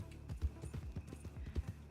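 Horse hooves clip-clop rhythmically across a jump course in Red Dead Redemption 2 (RedM), a quick steady gait of soft thuds at moderate distance with no talk.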